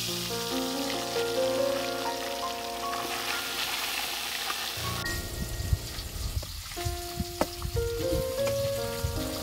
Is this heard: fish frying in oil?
yes